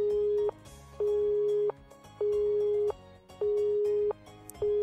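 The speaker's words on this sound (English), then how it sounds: "As the ruthless electronic buzz of the drop call echoed, I stared at my cell phone" Phone busy signal of a dropped call in the NEKOPARA video game: a loud, steady electronic tone switching on and off in a regular rhythm, about four cycles, with nothing else over it.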